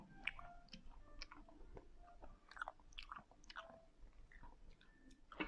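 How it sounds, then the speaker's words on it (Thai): Close, quiet chewing of buckwheat mixed with coconut, a run of soft, moist crunches and clicks in an uneven rhythm, heard alone. "บัคควิดกับมะพร้าวอร่อยมาก เคี้ยวมันๆเพลินๆ"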